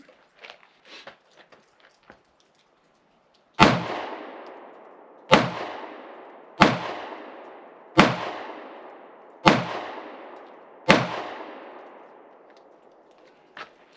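Six sharp shots of 147 grain ammunition ring out from a Canik Mete MC9 pistol at a steady pace of roughly one every 1.5 seconds, each loud crack trailing off in an echo, after a few soft handling clicks.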